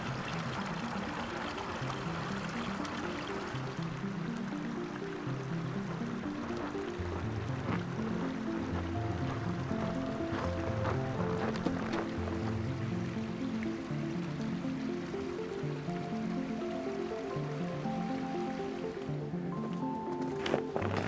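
A creek with small waterfalls flows along a wintry Colorado trail, a steady close rush and pour of water that holds at an even level throughout.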